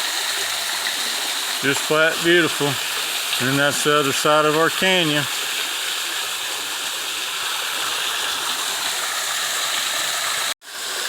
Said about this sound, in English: That's our third waterfall.